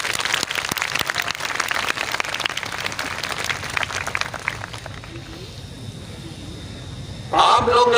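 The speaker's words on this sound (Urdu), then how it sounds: "میں چاہتا ہوں کہ آپ تمام حضرات کے لیے ایک زوردار تالی بجائیے۔" Audience applause at a Karachi University orientation day, a dense crowd of clapping that holds for several seconds and then thins and fades, before another burst of sound near the end.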